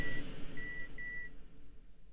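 A thin electronic beep sounds three times in a Halloween audio drama, short tones spaced unevenly and fairly faint over a low, noisy background hum.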